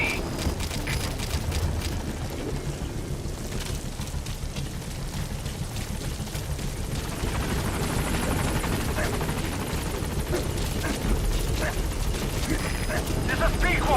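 In the Metal Gear Solid V video game, the helicopter Pequod arrives at a landing zone with a continuous rotor chop, while radio voices talk and scattered sharp game effects sound.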